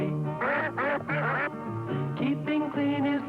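A duck quacks repeatedly, loud and close, in a run of nasal honking calls that blend into a sustained melodic tone, with no talk.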